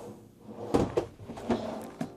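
Several short knocks and thuds of storage drawers being opened and shut in a 2022 Newmar Kountry Star 3709 motorhome, four distinct bangs spaced about half a second apart, close by.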